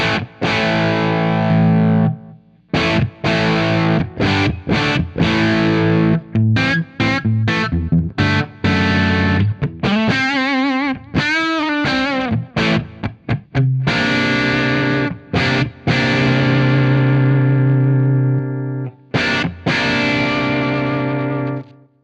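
A heavily distorted bass through a preamp pedal with its fat switch on plays thick, boomy phrases with brief pauses, loud and close throughout.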